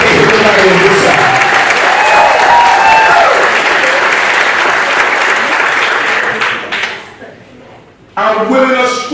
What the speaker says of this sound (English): Somebody clap your hands right now.